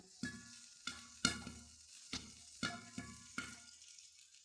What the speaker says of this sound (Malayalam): ഈ പോപ്കോണെല്ലാം പൊട്ടുന്ന സൗണ്ടാണ് നമ്മൾ കേൾക്കുന്നത്.